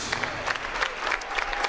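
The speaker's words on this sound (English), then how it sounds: "the crowd, as you can hear, is in full throat here in Salina" A crowd at a girls' high school volleyball match in Salina, Texas cheers and applauds loudly and steadily, a dense wash of clapping and shouting that fills the gym.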